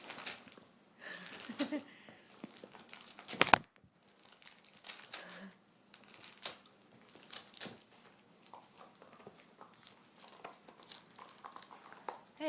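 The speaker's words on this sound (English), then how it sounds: "Unwrap your Christmas present." Christmas wrapping paper being torn and crinkled as a present is unwrapped, with scattered rustles and ripping bursts, one sharp tear standing out, while people talk throughout.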